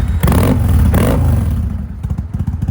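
A 1999 Kawasaki Vulcan 800 Classic carbureted V-twin with an upgraded aftermarket exhaust runs close by, loud and deep, with two swelling revs followed by a choppy, lumpy idle pulse.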